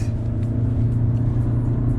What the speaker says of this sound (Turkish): Arabamız gidiyor